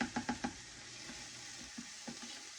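Diced garlic sautéing in a pan, a soft steady sizzle with several sharp scrapes of stirring at the start and a few more later, fairly quiet and close.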